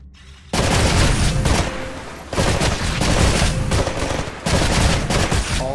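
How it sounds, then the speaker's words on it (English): Gunfire at targets on a shooting range in Titanfall sounds as three loud, sustained bursts of rapid automatic shots, close and forceful, each separated by a brief drop. "Destroy all of the targets in the shooting range."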